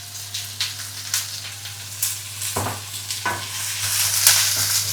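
Garlic frying in a pan with a steady sizzle while a utensil stirs it, scraping at an irregular rhythm, close and moderately loud beneath a constant low hum.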